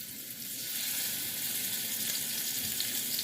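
Slices of sweet potato, two kinds, frying in hot oil in a pan, a steady close sizzle and crackle that holds evenly throughout with no talking.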